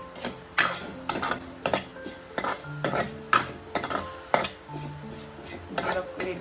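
Sugar melts in a pan under a utensil, with rhythmic clinks and scrapes of stirring against the metal about twice a second over a faint sizzle, close and moderately quiet with no talking.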